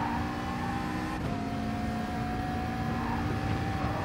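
A Ferrari 458 race car in Gran Turismo Sport roars past in a steady, loud engine drone with a sustained tonal whine that shifts slightly partway through, with no voices.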